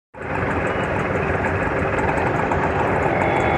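A motorcycle engine, just refuelled, starts abruptly and then idles in a loud, steady, close rumble for several seconds, heard alone without talk.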